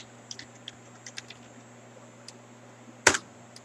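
Sparse, quiet keystrokes on a computer keyboard while entering a spreadsheet formula, a few light taps spread out, then one sharper, louder click near the end.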